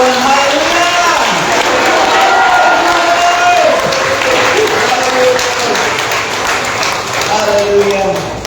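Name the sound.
congregation clapping loudly and cheering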